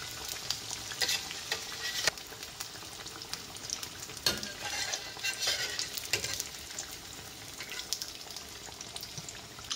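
Thick slices of green tomato frying in a pan, giving a steady close crackling sizzle with occasional sharper pops and stirring clatter throughout.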